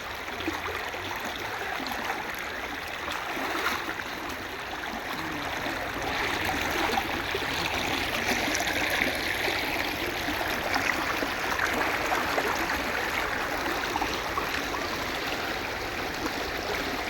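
Stream water at Jampanna Vagu, Medaram, rushes steadily during the jatara festival, a continuous broad wash of flowing water that stays even and fairly close for the whole stretch, with no clear voices.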